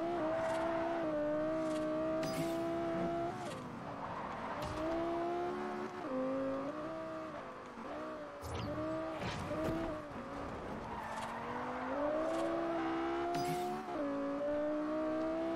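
Car engine in Forza Horizon during a long street race near Red Rock Observatory, a steady droning hum that rises and falls with gear shifts, with brief tire squeals, continuous throughout.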